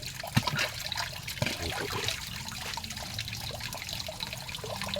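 Water trickles and splashes in a steady, close stream, a continuous watery hiss with a few small splashes near the start.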